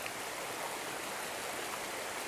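Cold mountain creek water flows in a steady, even rush with no breaks, a close, continuous wash of running water with nobody talking.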